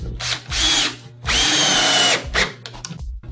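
Power drill driving a screw into the edge of an Azek composite deck board with no pre-drilling, several loud whirring bursts of varying length separated by short pauses, close up.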